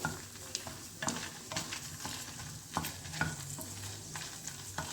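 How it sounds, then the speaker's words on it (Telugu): Urad dal, coriander seeds, mustard seeds and cumin frying with dried red chillies in a pan, a close sizzle broken by repeated stirring scrapes and small clicks of spatula against metal, no voices. "మనం దీంట్లో మినపప్పు ధనియాలు ఆవాలు జీలకర్ర అన్నీ కలిపి వేయించుకున్నామండి"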